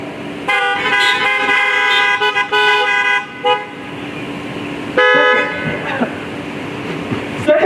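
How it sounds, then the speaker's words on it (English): Many car horns honk together at an outdoor drive-in school graduation ceremony, with overlapping loud blasts for several seconds, a pause, then another burst of honking, alongside crowd noise. "Honk your horns if you think that's good advice."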